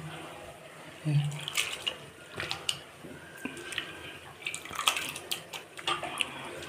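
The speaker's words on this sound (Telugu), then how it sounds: "రెడ్ అటుకులు ఇట్లా వాటర్లో వేసేసి కడిగేసేసుకొని నీళ్ళు మంచిగా ఇట్లా పిండేసుకొని" Red poha flakes are washed by hand in a bowl of water, with close sloshing, splashing and dripping as the flakes are rinsed and squeezed, in uneven bursts.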